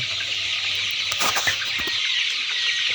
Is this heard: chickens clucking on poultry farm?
yes